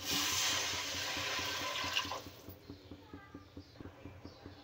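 Water gushes into a cooking pot in a steady rush for about two seconds, then stops, leaving faint, regular light ticks.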